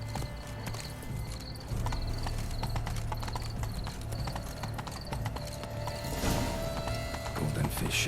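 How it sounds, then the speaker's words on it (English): Rapid hoofbeats of a unicorn galloping in The Witcher 3: Wild Hunt Blood and Wine, a steady close clip-clop rhythm with a brief whinny and a clattering burst near the end. "I'm riding a unicorn"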